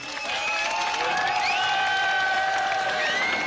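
Crowd applauding and cheering at the fall of the Berlin Wall as East and West German border guards meet, a dense steady wash of clapping with voices and whistles throughout.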